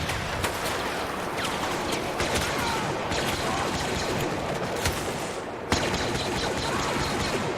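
Rapid bursts of video game gunfire, aimed and fired with a CaptoGlove motion-sensing glove, crackle steadily and densely throughout, with a sharper louder shot near the end.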